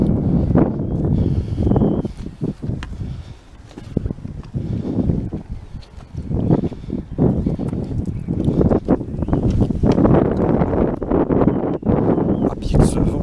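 Steady north wind buffets the microphone in low rumbling gusts while fishing, with rustling and occasional knocks, loud and continuous throughout.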